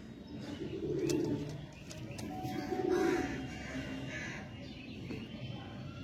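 Kalshira old-line pigeons coo in low, rolling calls, two clear coos a couple of seconds apart over a constant hum of background noise, with faint other bird calls.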